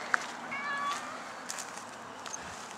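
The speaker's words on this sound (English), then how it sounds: "Hey, kitty." A cat gives a couple of short, faint meows over a steady background hiss, with a person speaking quietly nearby.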